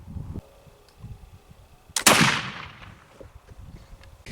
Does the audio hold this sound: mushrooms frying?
no